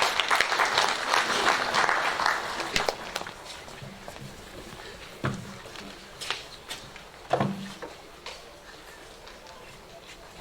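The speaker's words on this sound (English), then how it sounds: "Can we just clap hands for him as he comes down?" Audience at a World Tourism Day celebration claps for a speaker as he comes down, a fairly brief burst of applause that fades after a few seconds into scattered claps, footsteps and room noise.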